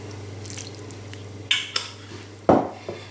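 Date paste being worked together with butter and orange blossom water in a bowl, soft squishing and stirring followed by a few sharp utensil knocks against the dish, close and fairly quiet.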